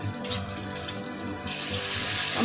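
Chopped ginger fries in a pan at home cooking, a soft steady sizzle building toward the end with faint clinks, no voices.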